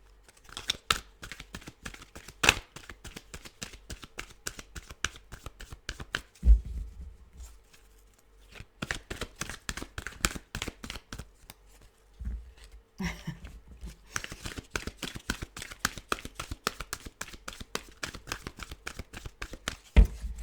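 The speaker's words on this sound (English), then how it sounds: "So they want a very specific card when it takes a little bit longer to shuffle" Crisp riffling and flicking of a deck of tarot cards being shuffled in repeated bursts, separated by short pauses, close and fairly quiet.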